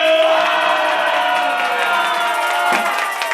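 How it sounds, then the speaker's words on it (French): A church congregation at a Paris worship service cheers and shouts acclamations to Jesus, a loud and sustained crowd roar of whoops and raised voices. "Acclamons très fort pour Jésus"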